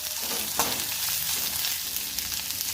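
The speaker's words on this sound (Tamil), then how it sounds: "5 காய்ந்த மிளகாய், 1 பெரிய வெங்காயம் நல்லா வதக்கிக்கலாம்" Dried chillies and onion sauté in a hot pan, a steady close sizzle with occasional stirring scrapes, moderately quiet and without talk.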